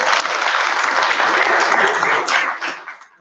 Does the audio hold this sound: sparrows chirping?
no